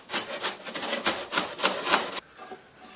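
Hand plane shaving a wooden board in gentle short strokes, about seven crisp rasping swipes in a quick even rhythm, close and clear, ending in quiet.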